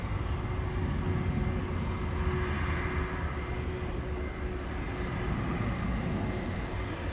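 An ABX Boeing 767 jet at DFW Airport, a steady broad engine roar that stays loud and even throughout without talk.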